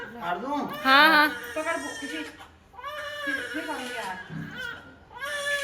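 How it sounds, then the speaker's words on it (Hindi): A newborn baby girl cries in wavering, rising wails close to the microphone, with pauses between bursts and a short whimper, during a homecoming welcome at home. "यहाँ पे सिर्फ इसके रोने की आवाज़ आ रही है"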